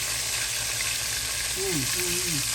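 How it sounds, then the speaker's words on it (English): Pork chops fry in a hot pan with a steady, loud, continuous sizzle, while a voice briefly speaks over the crackling near the end. "when chops are frying, that one piece of skin always want to come off"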